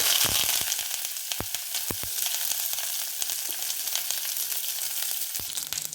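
Oil heats in a kadai for tempering Mysore rasam, giving a steady hissing sizzle with scattered small pops and crackles, close and fairly loud, no talking.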